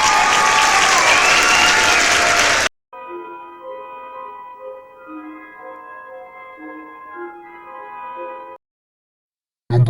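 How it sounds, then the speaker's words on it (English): Audience applause for a Halloween prop placing in a top-three countdown: a loud burst of many hands clapping for under three seconds, then an abrupt cut to quiet, steady tones. "Alright, let's give this guy a round of applause."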